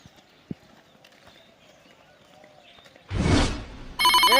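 A telephone rings loudly near the end in a comedic domestic scene, with a burst of noise just before and the bright repeating ring tone cutting in over a quiet background.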